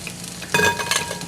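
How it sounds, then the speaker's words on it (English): Close, crackling sizzle of shrimp frying in hot oil, with sharp bursts of spattering and a short stirring scrape. "that's exactly what you want, that kind of rolling sizzle"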